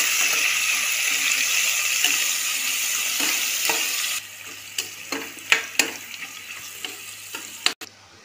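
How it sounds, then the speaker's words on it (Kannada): Onions frying in a pan for a potato green pulao, a steady loud sizzle for the first half that then drops to a softer hiss, with stirring clinks and scrapes punctuating the later part. "ಈರುಳ್ಳಿಯನ್ನು ಹಾಕುವ ಇದನ್ನು ಸಹ ಚೆನ್ನಾಗಿ ಫ್ರೈ ಮಾಡುವ"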